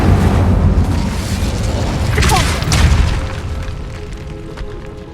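An Incendio fire spell is cast in the Hogwarts Legacy video game, a loud roaring whoosh of flame with a dense rumbling burst that swells near the middle, then tapers off, and no talking.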